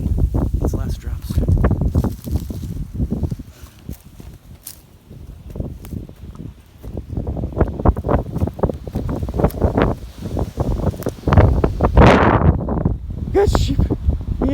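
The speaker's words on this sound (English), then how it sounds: "It's windy." Wind gusts buffet the microphone in repeated bursts of rumbling noise, loud and close, with a person talking intermittently over it.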